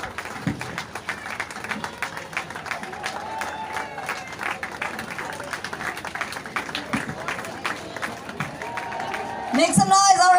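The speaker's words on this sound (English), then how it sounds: "Give it a round of applause, everybody." Crowd applause and cheering at the Rotary Rain Run prize distribution, a steady dense clatter running throughout under amplified talk, swelling louder near the end.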